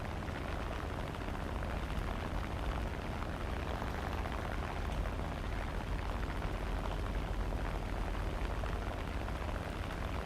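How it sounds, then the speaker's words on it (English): Aircraft cannons firing nonstop in an air combat video game, a dense, loud, unbroken roar of rapid shots with a constant low rumble beneath and no pauses throughout. "But I like the sound of the cannons on this too much not to use them."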